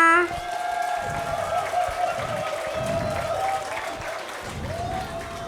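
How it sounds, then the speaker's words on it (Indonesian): Parents in an audience at a school language-month student showcase clap steadily beneath a sustained musical tone, the applause moderate and continuous. "Ayah Bunda, mana dong tepuk tangannya?"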